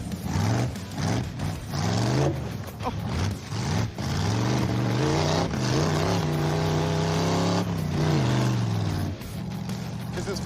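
Mustang race car on a lap of a racetrack, its engine roaring and revving through gear changes with rising and falling pitch, loud and continuous, heard from inside or close by.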